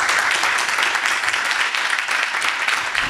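A room full of audience members at a live startup pitch show breaks into dense, sustained applause, loud and steady throughout with no talking over it.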